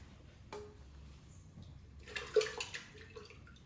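Kuppaimeni leaves are rinsed in water, with soft sloshing and a brief splashy burst of handling midway, quiet and close with no talk.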